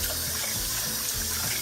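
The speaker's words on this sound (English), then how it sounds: "we use cold water, and what I do is I just go in here and basically rinse the rice around." Cold tap water runs steadily into a sink while rice is rinsed and swirled by hand, a close, continuous splashing hiss with no talking.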